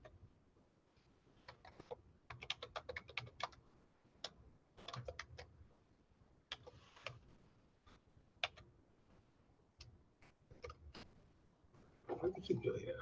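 Computer keyboard shortcut keys pressed in quick, irregular bursts of sharp clicks, fairly faint, with a louder rustle near the end.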